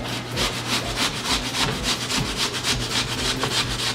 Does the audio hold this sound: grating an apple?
yes